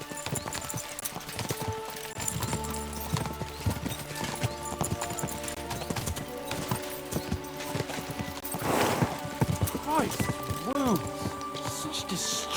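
Horses gallop in Kingdom Come: Deliverance II, a steady clip-clop of hooves running under music and ongoing talk, with a brief whinny near the end.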